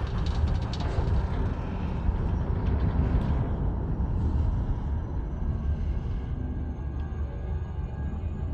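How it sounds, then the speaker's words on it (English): Elite Dangerous frameshift drive running supercharged, a loud, steady roaring rumble like a heavy engine that holds for several seconds with a faint high whine above it. "Frameshift drive supercharged."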